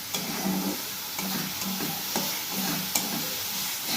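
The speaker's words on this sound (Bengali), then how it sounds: "ভালো করে কষাতে হবে।" Spices and Kashmiri chilli sauté in a hot pan with steady sizzling and frying, broken by a few brief stirring scrapes at regular intervals, close and clear with no talk.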